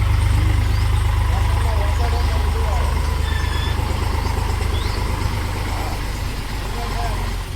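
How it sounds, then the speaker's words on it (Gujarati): A tractor arriving to dump soil rumbles close by with a deep, steady idling engine drone, while voices and faint birdsong sit over the constant low throb. "જો ટ્રેક્ટર આવી ગયું"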